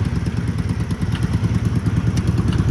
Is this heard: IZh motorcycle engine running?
yes